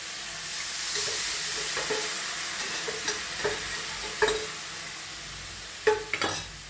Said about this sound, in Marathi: फोडणी ह्या अशा पद्धतीने वरती लाल असा थोडासा तळून घेतो